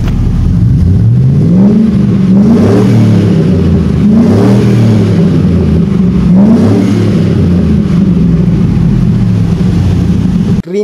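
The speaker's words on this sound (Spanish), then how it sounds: "Vamos a escuchar su motor." A 2004 Chevrolet SSR with a high-flow air filter revs repeatedly, its engine swelling and dropping in several loud rhythmic surges over a deep, steady idle rumble, recorded close up with no talking.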